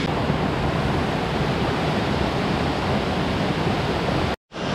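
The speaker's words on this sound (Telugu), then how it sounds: "వాటర్ ఫాల్ దగ్గరికి వెళ్తున్నాను." A mountain waterfall on a trek to Madmaheshwar pours out as a steady, loud broadband roar up close, holding constant for several seconds before a sudden brief dropout near the end.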